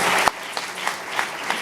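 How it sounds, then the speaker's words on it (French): A graduation ceremony audience for medical physics graduates applauds in a short, dense burst of many hands clapping, loud and close, with a few sharper claps standing out. "On peut s'applaudir."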